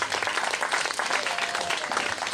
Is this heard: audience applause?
yes